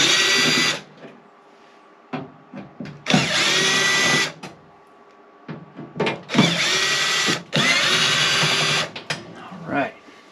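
A cordless power drill removes screws from an electric RV fireplace in several whirring bursts of a second or two, with clicks and handling noises between, close up.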